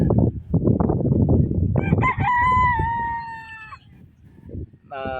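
Gamecocks and roosters at a game farm crow loudly and close, with a long rising crow and harmonics in the middle and another crow beginning at the end, over a busy background of clucking and other bird noise.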